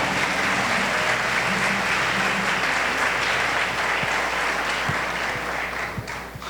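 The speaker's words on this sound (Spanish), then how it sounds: "Un aplauso para Esli" Sustained applause from an audience at a 65th anniversary church celebration honoring a newly baptized member, dense steady clapping that fills the room and tapers slightly near the end.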